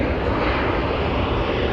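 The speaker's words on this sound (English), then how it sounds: "There's a Jetstar flight that's just snuck in undercover there from Wellington." A Jetstar jet arriving from Wellington lands at Auckland Airport, a steady, dense engine roar held at an even level through the whole moment.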